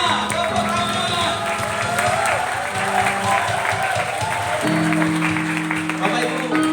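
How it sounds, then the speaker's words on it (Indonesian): Wedding guests applaud the newly introduced bride and groom, a steady wash of clapping held for several seconds under sustained talk and music-like tones in the hall. "Tepuk tangan."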